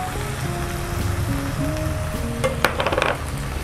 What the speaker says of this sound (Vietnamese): mình sẽ xào cho nó đều để nó thấm cái phần gia vị á